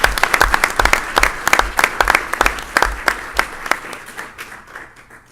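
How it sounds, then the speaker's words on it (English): Audience applause at a school board of education meeting honours coaches and athletes, a loud burst of clapping with sharp individual claps that gradually thins and fades out. "So one more time, everyone, please a big round of applause for our coaches and our athletes."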